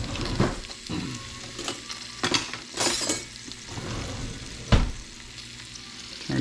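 Abdul's sausage frying in a hot skillet, a steady close sizzle broken by scraping stirs and a few sharp clinks of the utensil against the pan.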